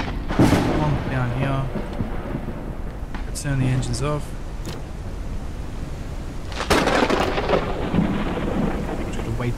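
A thunderstorm with rain rolls through in the Forever Skies video game, with repeated thunder cracks and rumbles over steady rainfall while someone talks.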